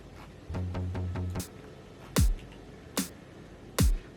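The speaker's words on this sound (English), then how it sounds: "I made it in Serum. It's just a plucky bass." A plucky bass synth patch built in Serum plays a short run of repeated staccato notes, followed by a few separate sharp, punchy hits with falling pitch, heard clearly with no talking.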